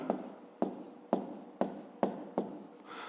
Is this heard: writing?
yes